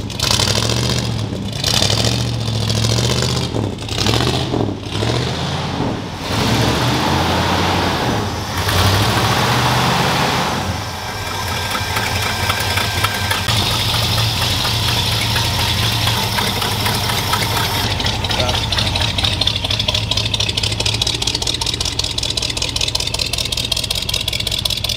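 A modified Ford F150 pickup's engine runs steadily up close, idling with a rough, loping rumble and rising in a few sharp revs early on before settling into a continuous drone with no talk.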